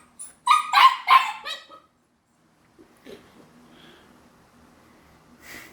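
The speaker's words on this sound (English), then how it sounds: "What if I woof woof?" A recovering dog gives a quick burst of a few sharp, close barks, then falls quiet apart from faint snuffling and a soft whimper near the end; no one talks over it.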